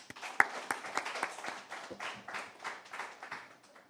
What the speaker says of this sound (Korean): 따뜻한 박수로 모시겠습니다